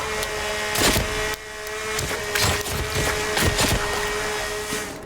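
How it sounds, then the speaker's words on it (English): A chainsaw cutting wood in the video game The Forest, a loud continuous engine drone with repeated bursts of cutting that rise and fall in strength. "This chainsaw's doing work."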